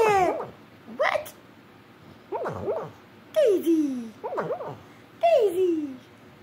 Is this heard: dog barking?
yes